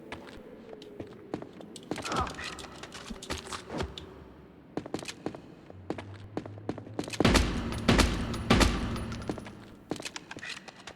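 Video game gunfire in PulseBreaker: sharp shots in scattered single cracks and quick bursts, some loud and close, mixed with clicking and mechanical effects and a low humming tone.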